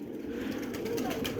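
Pigeons cooing in a loft of patterned fancy pigeons, a soft low steady burbling that fills the short moment with no other sound over it.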